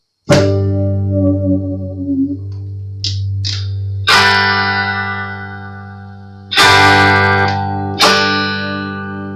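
Sustained chords on a Silvertone electric guitar with new strings ring out loud with effects and reverb, struck again several times and left to sustain between strums.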